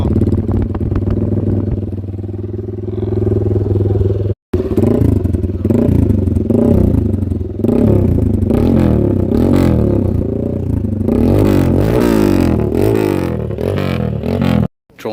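Several dirt bike engines rev and idle at a festival race, loud and close, with rising and falling throttle bursts and a sharp brief cutoff partway through.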